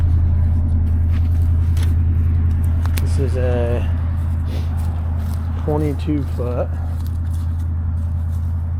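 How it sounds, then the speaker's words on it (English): A Ford Super Duty pickup's 7.3-litre gas engine warms up at idle, hooked to an aluminum car trailer, with a steady low rumble throughout while someone talks over it. "Just letting the truck warm up a tiny bit."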